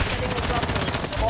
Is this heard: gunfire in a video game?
yes